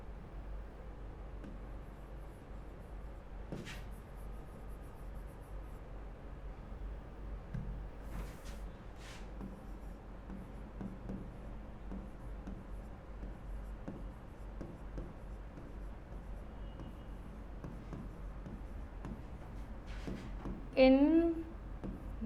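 A teacher writing notes during a science lesson, faint intermittent scratching strokes spread over a quiet room tone, with a short louder squeak near the end.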